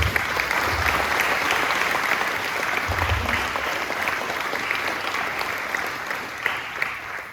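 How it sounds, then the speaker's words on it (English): An audience at a school open day presentation gives a steady round of applause, moderately loud and sustained from start to end with no talk over it. "Can you give another round of applause?"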